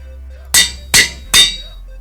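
Three short, sharp metallic clanks from a Minecraft anvil as diamond armor is repaired, evenly spaced about half a second apart, loud and alone with no talk.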